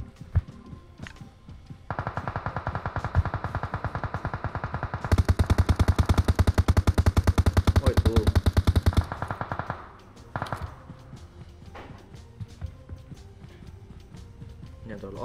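Gunfire in PUBG Mobile: a long, rapid string of automatic shots rattles for several seconds, growing louder and denser midway, then breaks off, leaving scattered single shots and footsteps behind.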